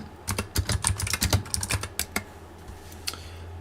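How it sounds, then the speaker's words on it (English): Rapid, irregular keystrokes on a computer keyboard, typed awkwardly around a bowl set in front of it; close and crisp with no talking, thinning out toward the end. "You should see the way I'm trying to type right now because I have my bowl sitting in front of my keyboard"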